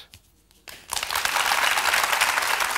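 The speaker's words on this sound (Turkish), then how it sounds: "Kocaman alkışlar." A studio audience on a Turkish entertainment show breaks into applause to welcome a singer, rising abruptly from near quiet into loud, sustained clapping.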